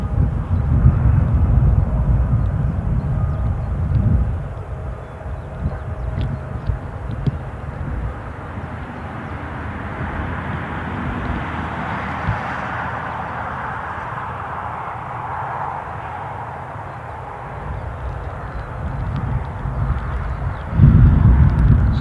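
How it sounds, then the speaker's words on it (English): A Boeing 737 taxis for departure at Newcastle International Airport, its jet engines a steady, distant rumble and whine that swells slightly midway, heard outdoors with light wind. "So we watched the departing, taxiing 737"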